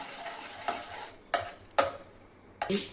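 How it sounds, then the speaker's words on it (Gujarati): A spoon stirs homemade tomato sauce with red chili in a pan, four close, distinct scraping strokes with faint sizzling between them and no voices. "આવી રીતના હલાવવાનું છે ચમચાની મદદથી"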